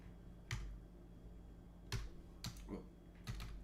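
A few sharp, isolated clicks spaced out over a few seconds, like occasional keystrokes on a computer keyboard in a quiet room.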